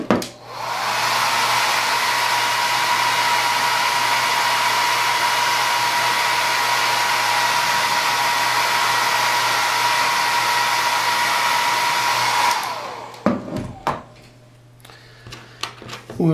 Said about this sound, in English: And hit the dryer a little bit for a second.